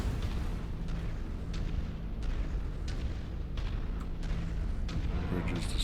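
A bridge blows apart in the MechWarrior 5 video game, heavy rumbling explosions and booming blasts rolling together in a continuous loud barrage.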